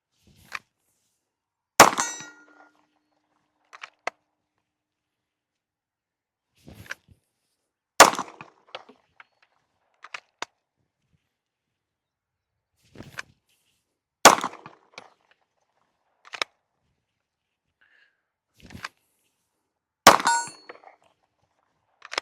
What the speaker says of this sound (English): We're going to go ahead and load it up and get some rounds down range